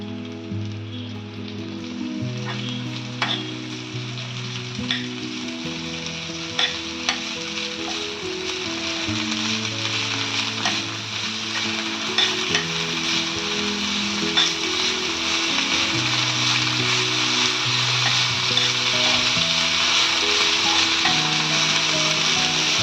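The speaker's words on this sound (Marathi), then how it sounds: "तूप घालून या भाजून घेतात सांबार बळी पान" Sambar balli leaves roast in ghee with a continuous, fairly loud crackling sizzle that grows fuller over time, with occasional stirring taps and scrapes in the pan.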